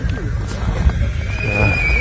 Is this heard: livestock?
yes